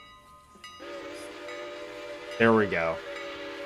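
Steam-era locomotive in the railroad simulation game Railroader: a steady engine hum with a short speech phrase, then a loud, brief horn blast near the end that bends in pitch and fades as the engine keeps running.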